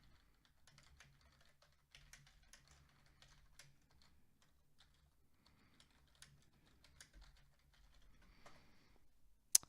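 Light, quiet clicks from a computer keyboard as a font name is typed, coming in short irregular bursts with brief pauses and a sharper click at the very end.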